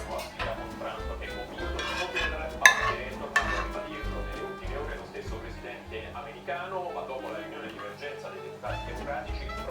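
Cooked spaghetti being mixed with tomato sauce in a pot, with utensils clinking and scraping against the metal and soft stirring, heard under ongoing talk.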